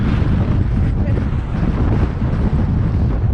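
Strong gusting wind buffets the microphone on the summit of Mount Moosilauke, a loud, constant roaring rush with no pauses.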